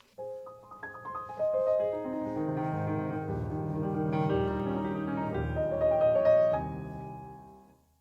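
A solo piano plays a rippling passage of rapid 32nd notes from the first movement of Beethoven's Sonata No. 31, Op. 110, swelling gently and then fading away, quiet and alone.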